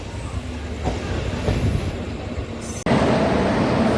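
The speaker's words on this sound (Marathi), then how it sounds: "फायनली आपली गाडी लागली अठरा नंबरवर" The Konkan Kanya Express rolls into platform 18 with a steady rumbling roar and faint wheel squeal, growing louder and closer toward the end, no voices.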